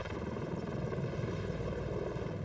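A V-22 Osprey tiltrotor aircraft in flight gives a steady, dense rotor and engine roar that holds at an even level throughout the short stretch, with no voices.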